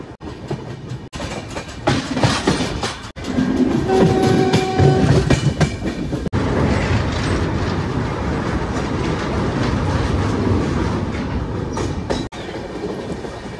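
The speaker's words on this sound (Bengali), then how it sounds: "2 মিনিটের হল্ট দিয়ে আমাদের ট্রেন এখন ছেড়ে বেরোচ্ছে কিষানগঞ্জ রেলওয়ে স্টেশন থেকে" Passenger train pulling out of Kishanganj railway station after a two-minute halt, heard from on board: steady loud rumble and rhythmic clickety-clack of wheels on rails, with brief metallic squeals as it gathers pace.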